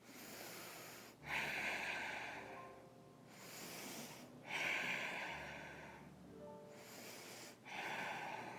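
Slow, deep breaths drawn in and let out during a kneeling yoga pose, three long cycles of audible inhale and exhale with short pauses, close and fairly soft.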